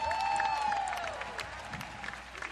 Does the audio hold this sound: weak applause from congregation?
yes